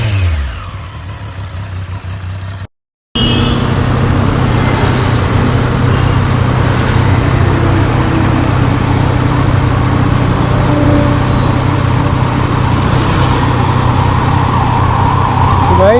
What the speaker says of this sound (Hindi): ये साउंड आप सुनिए इसका इनलाइन 3 का